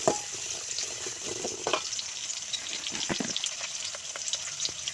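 Chopped onion sizzles in hot oil in a pan for a Bengali egg and coconut curry, a steady bright frying hiss throughout with occasional stirring scrapes and clinks close by.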